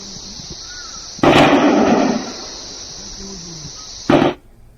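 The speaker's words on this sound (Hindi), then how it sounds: "बहुत ही बड़ा जो धमाका हुआ लग रहा है" Two sharp, loud blasts during an armed encounter in Kashmir, the first with a lingering rumble and the second shorter, over a steady high-pitched hiss.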